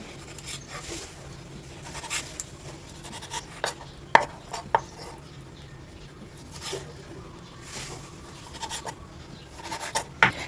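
A knife chops rehydrated dried squid on a board with a series of sharp, irregular taps and scrapes, close by and heard alone.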